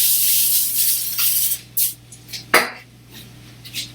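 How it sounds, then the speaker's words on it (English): Cooking spray hisses onto parchment paper lining a baking pan for cherry oat bars, a long steady spray followed by a few short bursts, close and fairly loud, with light clatter of kitchenware. "now you want to give that parchment paper also a good spray"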